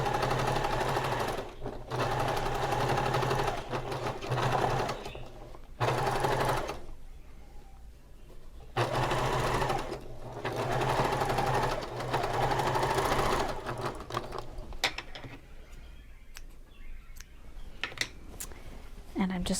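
Bursts of close, steady sewing-machine whirring stitch gathered fabric for a pillow sham, broken by pauses filled with fabric handling and small clicks. A voice talks during the gaps.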